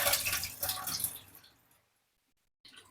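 Bitter gourd pieces are washed in water, making a short burst of splashing and sloshing for under two seconds. A brief silence follows, then a faint splash at the end.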